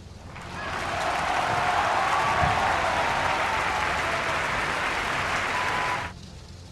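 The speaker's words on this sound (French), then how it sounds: "Jane arrête de repasser et des applaudissements commencent" Sustained applause swells up inside the surreal sitcom setting of David Lynch's Rabbits, holding steady at a fairly loud, even level for several seconds before cutting off abruptly.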